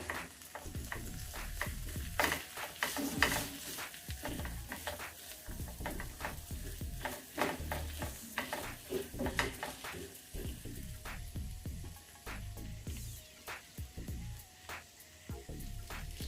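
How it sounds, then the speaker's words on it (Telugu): Bitter gourd pulusu sizzling in a pan with curry leaves and asafoetida, stirred with a utensil that scrapes and taps in a steady irregular rhythm over continuous quiet frying hiss, close up, no speech. "ఇలా మధ్య మధ్యలో కలుపుతూ ఉండాలి."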